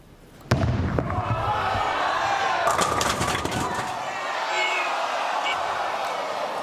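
A crowd at a PBA bowling playoff quarterfinal bursts into loud cheering after a sharp crash of pins, the roar holding steady and fading slowly, with a commentator talking over it.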